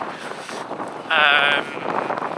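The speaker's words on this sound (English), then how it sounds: "It's just started pouring down again and it's really windy." Strong gusty wind and heavy pouring rain on an open coast in Iceland, a steady roar buffeting the microphone with one sharper, louder gust midway.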